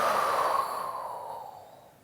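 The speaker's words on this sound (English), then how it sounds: "Exhale it out." A single long, breathy exhale during a yoga session, close and fairly loud, slowly fading over two seconds with no other sounds.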